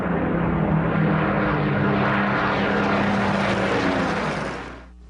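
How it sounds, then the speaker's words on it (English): A Spitfire propeller fighter plane drones loudly with a steady, throbbing engine roar that holds, then fades away near the end. "the young pilots of Mitchell's Spitfires would have to fight for their lives"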